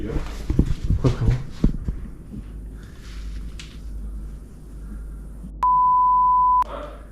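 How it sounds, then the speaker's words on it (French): A single steady electronic beep from an EMF detector, about a second long, sounds after some clattering and muffled movement inside an abandoned luxury château. "Il y a eu un bip au niveau du capteur EMF."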